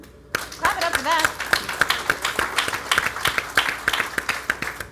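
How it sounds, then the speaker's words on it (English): An audience claps at a women's breakfast event, a dense burst of applause starting abruptly and continuing steadily with sharp overlapping claps, while a voice speaks briefly underneath at the start. "Clap it up for that."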